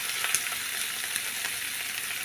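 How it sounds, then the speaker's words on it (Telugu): Onions, green chilies and curry leaves frying in a pan, a steady dense sizzle that stays loud and even throughout, with no talk. "మిర్చి, ఉల్లిగడ్డలు, కరివేపాకు కూడా వేసుకున్నాము. ఇవి కొంచెం ఫ్రై అయ్యే వరకు వేసుకున్నాము."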